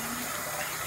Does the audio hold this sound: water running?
yes